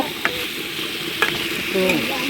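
Boiled potatoes and chickpeas stir-frying in a pan, a close, continuous sizzle broken by a few sharp spoon knocks and scrapes against the pan as they are stirred.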